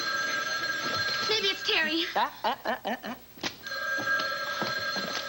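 An old-style telephone bell rings in rapid bursts at the start and again at the end, loud and close, with a person's speech filling the middle between the rings.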